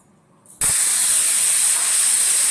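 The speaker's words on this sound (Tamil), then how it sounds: "ஒரு ஒரு விசில் வந்துட்டு" A pressure cooker holding tomato curry on a stove suddenly vents steam, a loud, steady, close hiss with a high whistling edge that starts abruptly after a brief quiet moment and keeps going to the end.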